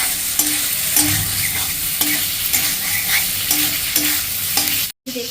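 Potatoes stir-fried with poppy seed paste in a pan, a loud steady sizzle broken by regular scraping strokes of a spatula roughly every second, close and continuous with a brief cut near the end.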